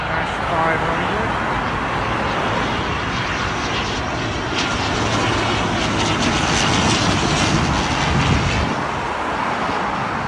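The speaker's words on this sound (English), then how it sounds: "Logan Airs ATR 42-500." Loganair ATR 42-500 turboprop at London Heathrow running loudly and steadily throughout, a broad engine roar with a faint voice briefly over it.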